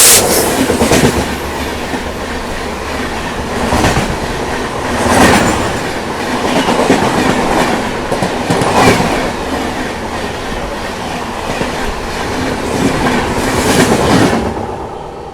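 The 15203 Barauni–Lucknow Junction Express, hauled by a WP7 locomotive, runs on rails near Gorakhpur station with a loud continuous rumble and rhythmic clickety-clack of wheels over rail joints, heard from close by with no talking.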